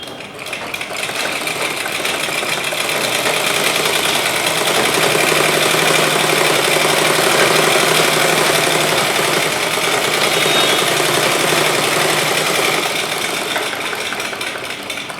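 Sewing machine stitching around a chudithar top, a fast, steady mechanical whirr with rapid needle clatter that runs continuously and close at even loudness throughout.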